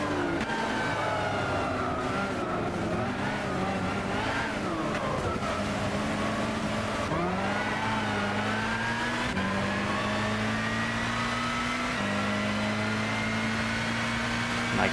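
Zytek Z11SN race car engine in Gran Turismo 6, a steady loud high-pitched drone climbing through the revs with brief dips at gear changes, running continuously with no talk.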